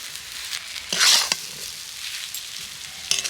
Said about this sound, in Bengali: সেটাকে কিন্তু এইভাবে নেড়ে চেড়ে সুন্দর করে শুকিয়ে নিতে হবে